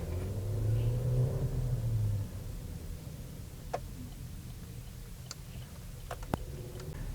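A car with fuel-trim and oxygen-sensor faults rumbles close by, louder at first and then settling into a quieter drone, with a few sharp ticks and clicks.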